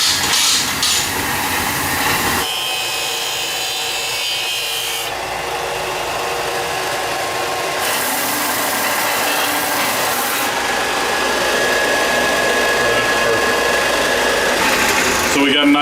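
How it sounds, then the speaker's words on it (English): Flat belt sander smoothing a flat metal gasket surface on a turbocharged 10HP diesel go-kart engine, a loud continuous abrasive whir with tonal shifts as pressure changes, running the whole time up close. "touching it up with a flat belt sander is going to clean it up real nice"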